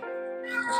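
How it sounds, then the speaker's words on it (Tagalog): A house cat lets out a single drawn-out meow, fairly close and moderately loud, rising toward its end, with no talking over it. "Pasensya na guys yung narinig yung pusa"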